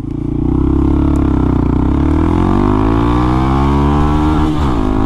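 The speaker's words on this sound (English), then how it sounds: "Hit the rev limiter once, twice." A Honda Grom motorcycle engine revved hard to its rev limiter, a loud close buzzing drone that climbs quickly and then holds at high revs with a slight wavering pulse, no talking over it.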